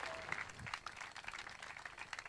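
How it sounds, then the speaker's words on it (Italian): A studio audience applauds Rosario on an Italian TV show, Stella del Sud 2010, in a faint, steady stretch of clapping that sounds distant and thin. "Questo è l'applauso che ti dedichiamo noi, a te"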